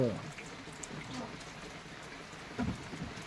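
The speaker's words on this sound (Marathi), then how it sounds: "परत आला बघा परत आला पाऊस" Steady monsoon rain in Jalna district, Maharashtra, patters softly in the background, a faint continuous hiss with a brief murmur of voice near the start and again later.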